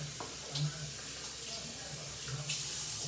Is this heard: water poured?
yes